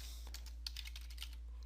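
Quiet typing on a computer keyboard, a quick run of soft, close key clicks over a faint steady hum.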